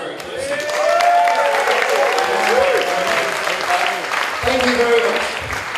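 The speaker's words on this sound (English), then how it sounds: "Round of applause for Eclipse." A room of listeners at a casual science talk night breaks into warm, sustained applause that swells and stays full, with some cheering voices layered over the clapping.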